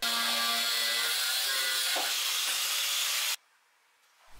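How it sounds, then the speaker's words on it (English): A saw cuts through the clamping piece of a homemade sheet-metal brake, a loud continuous rasping hiss close by for over three seconds before stopping abruptly. "the old clamping piece doesn't fit anymore, so I have to cut a piece off"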